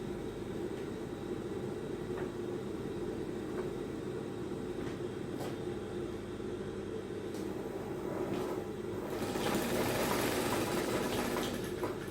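A sewing machine stitches the facing onto a mono strap dress, giving a steady, continuous mechanical whir and hum at moderate level throughout, with a somewhat brighter, busier stretch toward the end and no talking.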